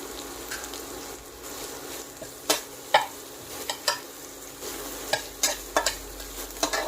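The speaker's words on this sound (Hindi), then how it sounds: "साथ ही हम अपना ये प्याज भी इसमें डाल देंगे और ये हरी मिर्च जो है इसे भी हम डाल देंगे और इनको अच्छी तरह से हम भूनेंगे।" Onion and green chilli stir-fried in a pan, with a soft continuous sizzle and sharp, irregular spatula scrapes and knocks against the metal, close by and without speech.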